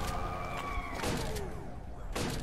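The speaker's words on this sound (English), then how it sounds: "whenever those sirens hit, that guy one-shots you" Wailing sirens in a Portaboy+ minigame, a loud synthetic rising and falling tone over busy game sounds with sharp bursts, continuous through the short clip.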